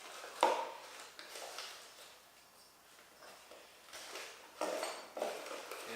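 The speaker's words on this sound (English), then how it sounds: "we're just going to use these clips and clip down the coffee filter" Metal clips snap onto a pot to clamp down doubled paper coffee filters during home winemaking, a few faint clicks and clatters with quiet handling in between.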